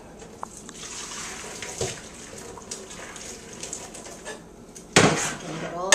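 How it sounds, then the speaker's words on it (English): Hot water drains out of a pot of cooked, tender potatoes, with metallic clanks of the pot, splashing and trickling, and a sharp louder clatter and gush near the end. "They're nice and tender, and I'm going to drain out the water."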